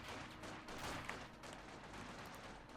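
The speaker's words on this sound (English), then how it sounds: "conscripts continue to open fire on the Punzful Slayers." Conscripts firing rifles in Company of Heroes 2 on the Highway to Baku map, a dense, continuous crackle of overlapping gunfire with machine-gun bursts mixed in, steady and loud throughout with no talk.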